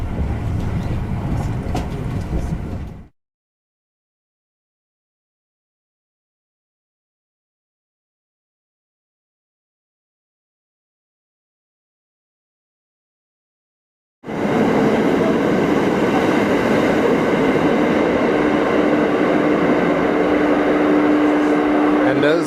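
Thunderbird express train rolling out of a wintry Japanese station, a steady loud rumble of wheels and carriage noise heard close by, cut off by a long stretch of silence before the heavy rail rumble resumes.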